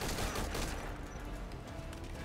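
Gunfire from the stealth video game Metal Gear Solid 5: Ground Zeroes on PC, a dense, steady stretch of shooting and game noise at moderate level with no talk.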